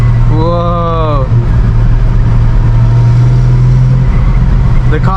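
Cabin of a 1966 Ford Mustang driving at night, the engine holding a steady low drone with a constant hum underneath; a person speaks briefly near the start over the motor.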